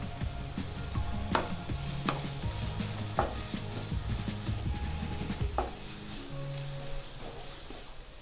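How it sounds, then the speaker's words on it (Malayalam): Cabbage and grated carrot stir-fried in a pan for vegetable soup, with a steady sizzle under repeated scraping stirs and occasional sharp clinks of the utensil against the pan, close and fairly loud. "ഇനി ഇതെല്ലാം കൂടെ നന്നായിട്ട് മിക്സ് ചെയ്തൊന്ന് വഴറ്റിയെടുക്കണം"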